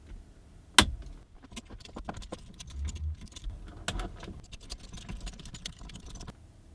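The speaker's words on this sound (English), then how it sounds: "You're going to remove the screws in the bottom here" Screws being removed with a Torx bit from the navigation unit of a BMW E39, E46 or E53, heard as a sharp metallic click followed by small ticking, rattling and clinking sounds at close range.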